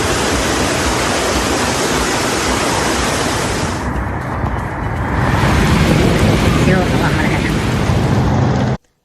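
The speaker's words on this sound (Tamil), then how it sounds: "பாலைவன நாடான சவுதி அரேபியாவில் கொட்டி தீர்த்த மழை" Heavy rain pouring down in Saudi Arabia, a dense, steady roar of downpour that carries on throughout and grows louder partway in; no distinct thunder claps stand out, and a news voice may sit faintly under the rain.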